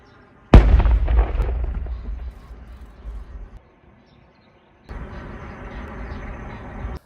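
A single heavy blast booms out from a controlled detonation of an unexploded shell in Mykolaiv region, Ukraine, then rumbles and fades over several seconds; after a pause, a steady outdoor noise follows.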